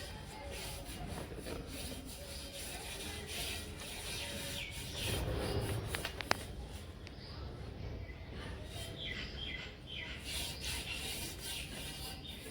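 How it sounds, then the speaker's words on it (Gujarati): A brush rubs and scrubs steadily over a snake deity idol, a close, continuous rasping with soft irregular strokes and a voice speaking quietly at times. "બ્રશ વડે બધી ઘસી કાઢીશ."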